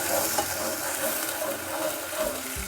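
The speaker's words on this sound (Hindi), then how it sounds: "ये देखिए ज़ीरा हमारा पिंकिश ब्राउन हो गया और इसकी स्मेल भी बहुत ज़बरदस्त आ रही है। अब हम इसमें डाल देंगे प्याज।" Onions dropped into cumin seeds browning in hot oil for an aloo matar curry, a loud continuous sizzle and hiss close by, with stirring throughout.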